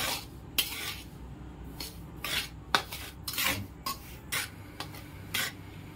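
Semolina stirred and roasted in homemade ghee, a metal spoon scraping and clinking against the pan in irregular bursts, fairly quiet and close with no talking.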